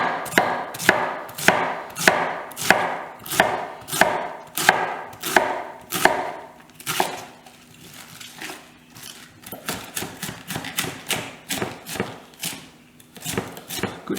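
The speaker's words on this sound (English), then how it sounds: "Good trick when you're cutting things like this big is to keep your fingers tucked under" A knife chops vegetables on a cutting board to make sauerkraut: quick, crisp knocks in a fast steady rhythm, a brief lull, then lighter, faster chopping. The sounds are close, with no speech.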